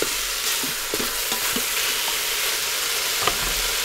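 Chicken pieces being stirred in a pot while cooking tinolang manok, with soft scraping utensil strokes and a low steady sizzle, close and continuous, no talking.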